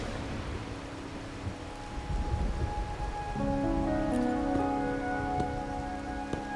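Steady rain falling in Raguna, a location in the video game Wuthering Waves, a continuous even patter that holds alone throughout, with a soft low rumble and a few faint tonal notes rising partway through.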